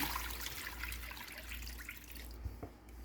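Water pours steadily into a soap base with a hissing, splashing rush, close by and without any talk.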